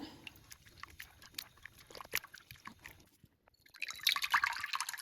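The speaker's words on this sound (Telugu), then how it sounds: "చింతపండు పులుసు ఇలా రుచికి చేతితోటి వడబోయాలి" Tamarind pulp is squeezed and strained by hand for a gravy, giving quiet, irregular drips and trickles of liquid, with a brief wetter splash near the end.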